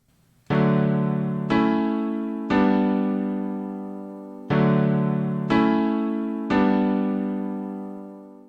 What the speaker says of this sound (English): first I started out with these simple basic triads, and those sound like this.